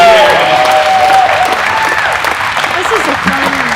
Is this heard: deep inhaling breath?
no